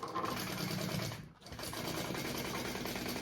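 A sewing machine stitches a second row along the bottom of an embroidered crossbody bag, making a loud, steady, close whir that drops out briefly partway through and then resumes.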